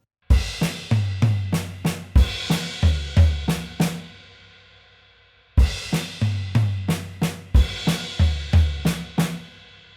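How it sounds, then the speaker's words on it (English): Paradiddle-diddle fills on a drum kit moving between crash cymbal and floor tom, two bursts of rapid close strikes with deep tom thuds and bright cymbal wash, separated by a brief gap. "I'm then going to do the same thing in the second paradiddle-diddle between the crash and the floor tom"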